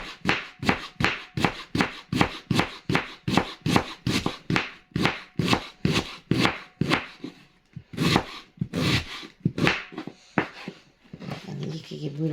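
A knife thinly slices a dense, tightly layered cabbage on a board, with crisp, evenly spaced chops at a brisk pace that slow and grow irregular toward the end.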